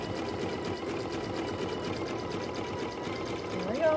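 An embroidery machine stitches out a gnome table topper design with a steady, fast mechanical whir and rapid needle chatter that holds even and close throughout.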